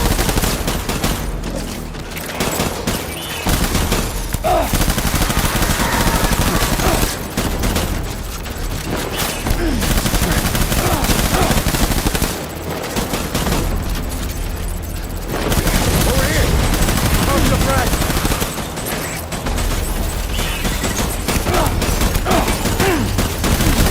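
Gunfire in the video game Death Stranding on very hard difficulty, dense and loud, with sustained bursts and fusillades running almost continuously and brief lulls between volleys, with voices talking over it.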